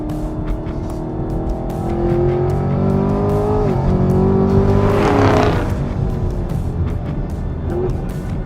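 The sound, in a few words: high-performance car accelerating and downshifting on a track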